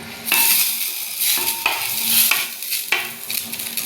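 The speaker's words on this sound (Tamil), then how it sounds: "ஒரு ஒரு பச்சை மிளகா இஞ்சி வெள்ளப்பூ போட்டு நல்லா வதக்கிடுவோம்" Mint, green chili, ginger and garlic sautéing in a pan in a village kitchen, a close sizzle broken by several rhythmic scraping stirs, with no talk.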